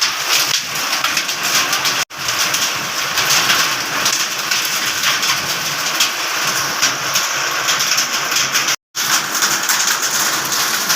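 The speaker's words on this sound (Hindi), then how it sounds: "लेकिन आप ओले की आवाज़ और बारिश बहुत आराम से सुन सकते हो।" Heavy rain and hail pour down during a violent storm in Delhi, a steady loud broadband wash with dense pattering that never lets up, apart from two brief dropouts.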